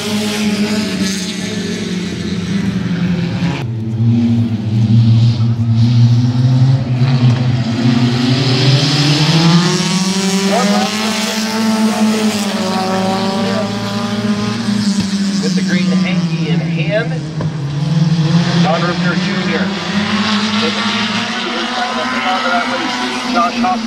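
Compact race cars at Midvale Speedway roar continuously, their engines rising and falling in pitch as they rev through turns and down the straights, with a commentator talking over the steady racing noise.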